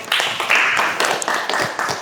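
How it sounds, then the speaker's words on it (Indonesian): An audience claps in a classroom presentation setting, a short burst of close, dense applause with uneven swells and no words spoken over it. "Ya, beri tepuk tangan untuk"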